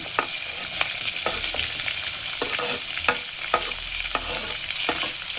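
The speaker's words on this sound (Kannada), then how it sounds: "ಈರುಳ್ಳಿ ಕೆಂಪಗಾಗೋ ತನಕ ಫ್ರೈ ಮಾಡೋಣ." Onions, chopped green chillies, curry leaves and a pinch of asafoetida sizzle in hot oil, a steady close frying hiss punctuated every half second or so by sharp spatula strokes scraping the pan.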